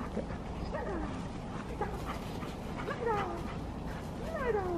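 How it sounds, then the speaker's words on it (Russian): A very quick, lively dog whimpers and yips in rising and falling whines against a busy background hiss, the cries coming in short bursts through the moment. "Рома, я таких собак быстрых не видел"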